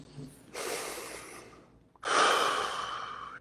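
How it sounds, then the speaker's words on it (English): Two deep breaths drawn in through the nose during a seated relaxation exercise, each a loud, airy rush of about a second and a half, close to the microphone, with a brief pause between them. "Taking a few deep breaths, breathing in through the nose."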